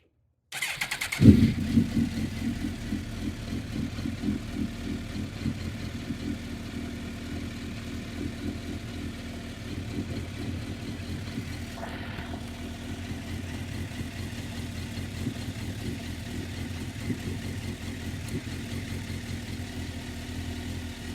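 A motorcycle being checked for cooling-system coolant flow cranks and fires up, then settles into a steady, low rumbling idle that runs close by and evenly for the rest of the stretch.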